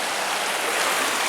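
Floodwater after monsoon rains rushes in a dense, constant roar, a loud, close broadband churn with no pauses.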